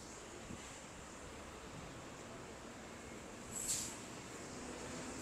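Waves at a beach in Manly, Sydney, a faint, steady wash of distant surf with a soft swell of water near the middle.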